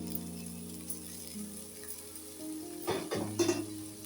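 Gobindobhog rice fries in a pan after a cooked-down spice base, a low steady sizzle with scraping stirs of a spoon growing busier toward the end, close but fairly quiet, no talking.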